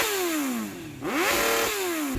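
A Suzuki GSX-R750 sport motorcycle with a factory exhaust revs hard in a few rising sweeps, climbing high in pitch, dipping briefly, then rising again, close and loud with no talking.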